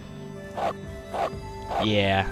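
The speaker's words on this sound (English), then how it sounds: "It sounds like a dog you'd want to run away from." Three deep barks from a Rottweiler in the video game Okami come at a steady pace, followed by a longer, louder bark-growl, with a voice briefly speaking.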